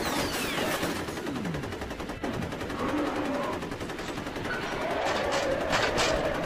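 Gunfire from the video game F.E.A.R., a continuous rattle of automatic shots with clatter and impacts running steadily throughout, no talking.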